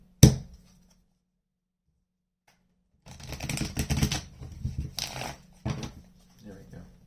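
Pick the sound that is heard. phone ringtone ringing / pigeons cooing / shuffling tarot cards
shuffling tarot cards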